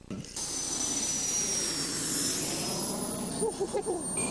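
A jet-powered RC car's turbine spins down after shutdown, a loud steady high whine slowly falling in pitch over a broad rushing roar, with some clattering and a voice near the end.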